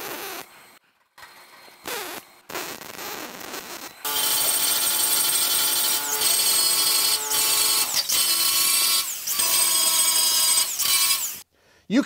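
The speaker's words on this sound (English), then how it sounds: "after quickly taking our DeWalt grinder to clean those welds up" A DeWalt grinder works over plug welds on sheet metal, a loud steady high whine with harsh grinding that starts and stops in bursts, dominating after a few quieter moments.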